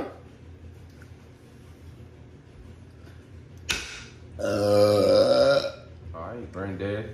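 A loud, long burp from a young man during a Sprite drinking challenge, a drawn-out croaking belch followed by a shorter second one, with people talking around it.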